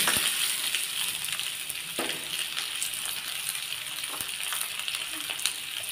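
Potatoes fry in oil with salt and turmeric in a pan, a continuous close hiss and sizzle with a few soft clinks and stirring knocks throughout.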